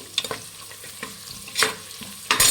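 Masala frying in a pan for Kannada-style rice bath, with a soft steady sizzle broken by several sharp scrapes of a spatula stirring it, loud and close.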